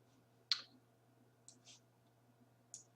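Three quiet, crisp mouse clicks on an OK button while working in Adobe Illustrator, spaced about a second apart against a faint background hum.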